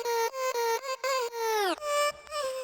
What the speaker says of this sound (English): So it swoops downward